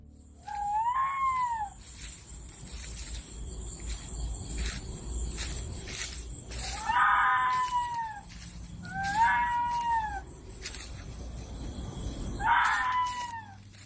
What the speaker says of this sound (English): a blood-curdling scream resonated from deep in the woods